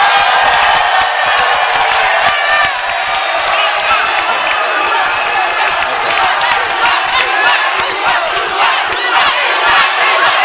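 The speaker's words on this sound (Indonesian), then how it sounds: "saya persilahkan tepuk tangan untuk para paslon" A large crowd of supporters at the 2017 Jakarta governor candidates' debate roars and cheers continuously, loud and dense, with shouts and clapping blending into a steady wall of noise.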